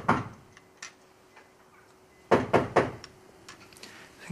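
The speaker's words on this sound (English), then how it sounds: "I think there's somebody at the door." Knocking at a door comes as a few sharp raps, first a single pair, then a louder cluster of three to four knocks after a pause, with faint taps trailing off.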